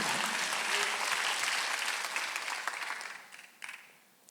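A church congregation at a Sunday service applauds with a dense wash of clapping that starts strong, gradually thins and fades, ending with a few isolated claps.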